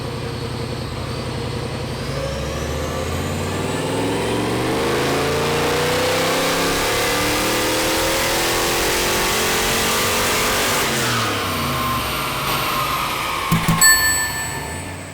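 A turbocharged Nissan 180SX engine revs on a dyno, pulling through rising gears in a long, loud sweep that climbs steadily and then drops off sharply near the end, with brief clanks.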